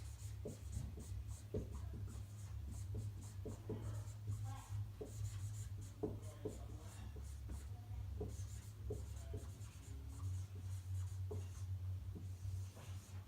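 Pen scratches on notebook paper while a math problem on multiplying mixed numbers is written out, in short strokes and bursts of rubbing over a steady low hum, with no one speaking.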